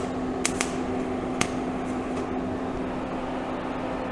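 An arc welder tacks homemade tractor tire chains on an improvised table, giving a steady close crackling hiss over an electrical hum, with a few sharp pops near the start.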